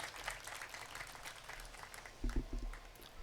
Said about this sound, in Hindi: माननीय मैम के लिए जोरदार तालियों से उनका स्वागत करें